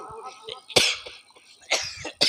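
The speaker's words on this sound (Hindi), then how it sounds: "इसको खांसी आ रही" Someone coughs in a few harsh, close bursts spaced across the moment, with quiet murmuring between them.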